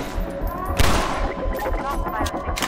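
Gunfire rattles out in Entropy: Zero 2, with a burst of close shots and a loud blast in the middle against a dense layer of combat noise.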